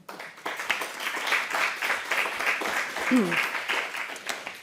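An audience at a medical conference on early diagnosis and sarcomas applauds, with clapping of uneven intensity over a few seconds and a brief voice or tone passing through partway.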